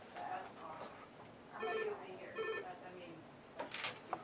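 Phone ringing for a phone interview call: two short, bright bell-like trills about a second apart over a quiet room, with faint murmurs and a soft clatter at the end.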